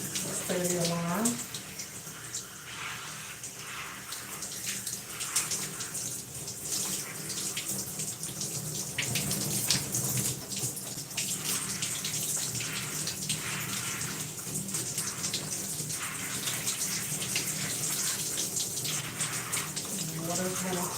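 Water runs steadily from a tap while hair is being washed, a continuous close splashing wash that persists throughout, with occasional voice sounds underneath.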